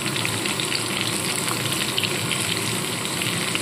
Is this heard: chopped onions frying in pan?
yes